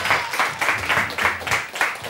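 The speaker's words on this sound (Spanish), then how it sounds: "¡Un aplauso para este fenómeno!" Studio audience on a Spanish TV variety show claps in a brief burst of rhythmic applause with a steady, evenly spaced beat, fairly close and alone.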